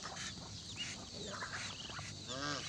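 Ducks on a farm quacking nearby, a few short raspy calls scattered over steady outdoor background noise, with one louder honking burst near the end.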